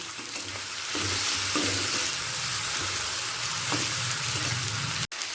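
Tomatoes fried with salt in a kadai, hissing and sizzling loudly and continuously up close while a utensil stirs and scrapes at intervals, with no voice present.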